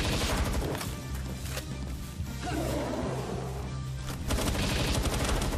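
Rapid gunfire in a shooter video game, dense bursts of automatic shots and impacts layered over a steady game soundtrack, loud and close with no talking.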